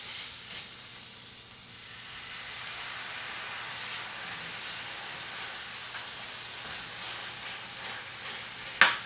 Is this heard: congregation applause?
no